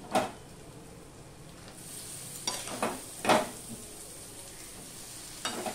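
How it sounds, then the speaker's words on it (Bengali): Half-boiled vegetables fry in a pan with spiced fish head, a low, steady sizzle broken by a few distinct scrapes and knocks of stirring. "সিদ্ধ করে রাখা সবজিগুলো আছে, আধা সিদ্ধ করা আর কি, সেগুলো আমি এখন এখানে দিয়ে দিচ্ছি"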